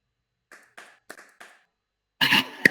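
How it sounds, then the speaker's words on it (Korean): Participants in a Won Buddhist service held in a metaverse space give four sparse, faint claps in a slow even row, followed by a louder burst of mixed noise. "박수를 짝짝짝 보냈더니"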